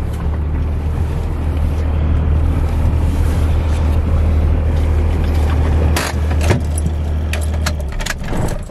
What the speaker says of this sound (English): let's get this truck fired up and moved out of the way.